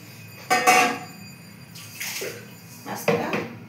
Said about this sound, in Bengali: এই যে এই জলটুকু আমি দিয়ে দিলাম। এই যে কয়টুকু জল দিলাম মাছটা সিদ্ধ হওয়ার জন্য